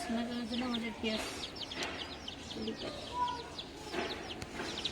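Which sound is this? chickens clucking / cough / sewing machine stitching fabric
chickens clucking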